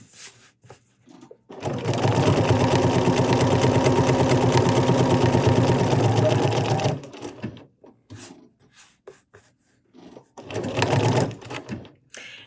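A BERNINA sewing machine stitching decorative patterns runs in one steady, loud, even whir for about five seconds, then again in a short burst, with quiet pauses and faint handling noises between.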